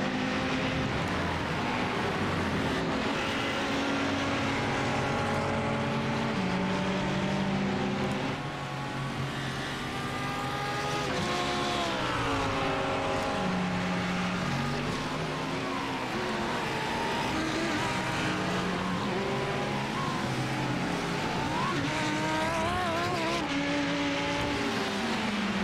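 GT race cars lapping Donington Park National circuit, engines droning and revving continuously with rising and falling pitch as cars pass, a dense steady roar throughout.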